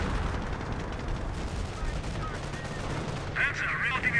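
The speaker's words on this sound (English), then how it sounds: "that's actually a rocket barrage" A rocket barrage fires in a Company of Heroes match, a dense rapid crackle of launches and blasts running steadily throughout, with a shrill whistling layer near the end, under a commentator's voice.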